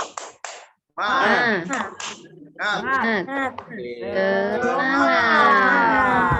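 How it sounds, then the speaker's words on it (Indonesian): A classroom of pupils chants a cheer together with short bursts of rhythmic clapping during a lesson, their voices dominating the close, lively exchange. "Tepuk semangat."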